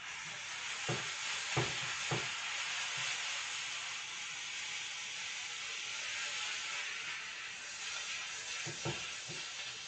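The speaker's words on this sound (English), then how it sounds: "I'm going to put my tomatoes and my andouille in, just to sweat them a little" Tomatoes and andouille sausage sweat in a hot pan for Cajun paella, a steady, moderately loud sizzling hiss broken by a few clacks of stirring near the start and end.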